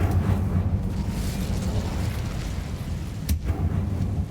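An Incendio fire spell cast in Hogwarts Legacy makes a loud, sustained fiery rumble with a sharp burst near the end.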